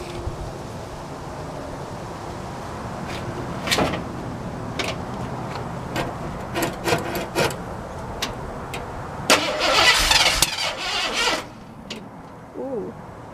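A 1949 Ford truck engine cranks and starts, with ticking clicks and a louder burst of cranking and catching before settling into a quiet idle.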